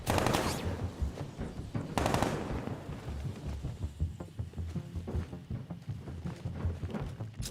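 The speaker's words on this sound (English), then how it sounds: "I'll shoot him down and see what happens." Rapid gunfire bursts from a Batman video game, with a loud burst at the start and another around the two-second mark, then continuous lower-level mechanical clatter and thumps.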